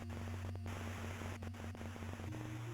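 Steady hissing white noise static laid over a low electrical hum, faint and constant, with a few brief dropouts and small crackles along the way.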